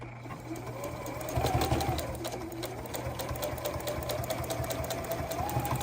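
A domestic Juki sewing machine stitches steadily while basting the top of a denim jacket, its fast even needle rhythm running continuously throughout, with a low motor hum and a slight surge partway through.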